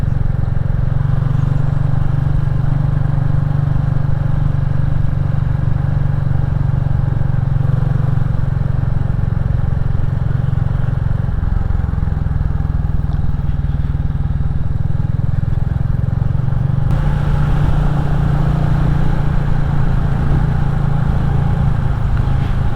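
A Royal Enfield Classic 350 motorcycle out on a ride, its steady engine drone and road rumble continuous and loud throughout, with a slight shift in tone partway as the ride goes on.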